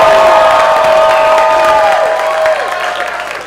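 Awards-show audience at the Miami Web Fest cheering and applauding loudly, a dense wash of claps and shouts with a sustained whistle or whoop, holding steady then easing slightly near the end.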